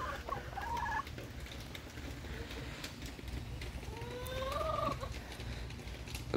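A chicken clucks and squawks in short, rising calls, close and fairly quiet, in two bursts over a low background hum.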